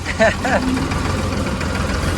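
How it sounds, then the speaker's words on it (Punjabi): A tractor's diesel engine idles with a steady low rumble throughout, and a voice speaks briefly near the start. "ਸਾਡਾ ਖੁਸ਼ਾ ਚਲਾਉਣਾ ਟਰੈਕਟਰ ਭਾਈ"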